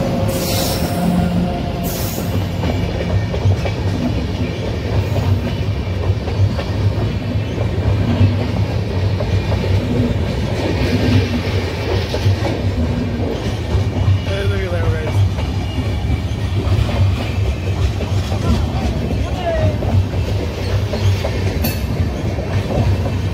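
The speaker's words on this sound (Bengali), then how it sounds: "এই ট্রেনটা মানে আমাদের হিলি থেকে দিল্লি যাবে।" A passenger train on the Hili to Delhi line rolls past near the Banshihari rail bridge, a loud, continuous rumble with rhythmic clickety-clack of wheels on track, close by and sustained throughout.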